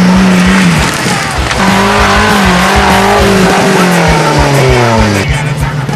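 Off-road car climbing a steep hill at an off-road rally, engine straining loudly and continuously with rising and falling revs, close to the listener, with faint voices underneath.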